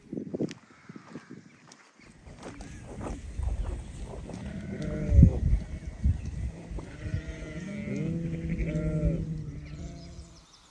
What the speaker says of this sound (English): The sheep were in abundance.